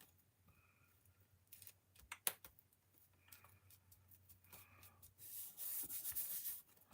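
Adhesive craft vinyl being rubbed down onto a craft surface, a faint scratchy rubbing in short scattered strokes, growing into a steadier, louder rubbing near the end.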